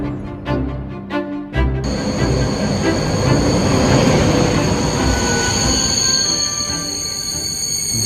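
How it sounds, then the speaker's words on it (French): A TGV high-speed train rolls along the rails, heard from inside as a loud, continuous rumble with squealing wheels and high whining tones, preceded by a few brief clattering knocks. "Et voilà, 5 heures dans le TGV."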